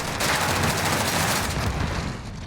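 Dense, continuous gunfire roars through a Call of Duty esports match, overlapping shots and bursts blending into a loud sustained wash with no clear gaps.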